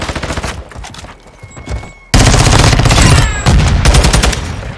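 An automatic rifle sprays in Modern Warfare 2, a loud continuous burst of shots cutting in after quieter game noise, with a brief dip before firing resumes.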